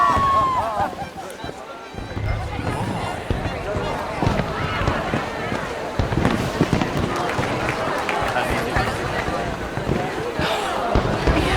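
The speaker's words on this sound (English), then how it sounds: "Let me enjoy the fireworks." Fireworks during a nighttime celebration in the video game Red Dead Redemption 2, a dense continuous run of pops, crackles and bursts under a busy crowd, with voices talking over it.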